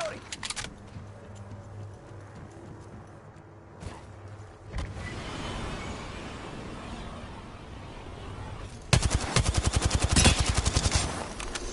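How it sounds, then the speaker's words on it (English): Gunfire in the battle game Apex, with bursts of shots and rapid automatic fire growing loud and dense toward the end, mixed with game noise and a voice talking. "Getting shot at."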